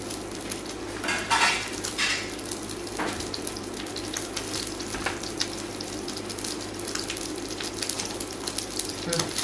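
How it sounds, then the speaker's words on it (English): Lamb seared skin side down in a very hot pan after seasoning with pepper, giving a constant loud sizzle and crackle with occasional scrapes and clinks of the pan throughout. "The pan's nice and hot. I'm just going to quickly sear that"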